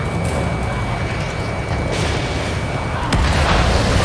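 A missile explodes in the jet combat game Ace Combat 7, a heavy boom that lifts the level sharply near the end, set against a loud, continuous roar of engine and wind.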